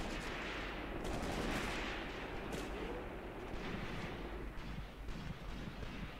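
Anti-tank gun fire in the WWII tactics video game Graviteam Tactics, heard as a dense, sustained rumble of gunfire and distant booms mixed with battle noise throughout, with no talk.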